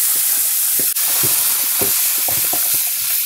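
Onion and garlic sautéing in oil in a frying pan over medium heat give a continuous hissing sizzle, broken by a string of close stirring scrapes and taps and one sharp knock early on.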